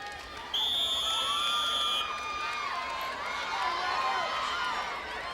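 The studio audience of the American Gladiators TV show cheers and shouts loudly and continuously in a large arena, with a brief whistle at the start, a dense roar throughout.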